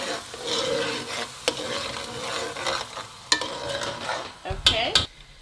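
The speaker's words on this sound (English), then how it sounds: "Because the oil was really hot, the peppers already just fried immediately, but I'm just gonna let it fry a bit." Sweet peppers sizzle steadily in very hot oil for Nigerian efo elegusi spinach soup, a continuous frying hiss broken by a few sharp stirring scrapes and clinks near the end, with no voices.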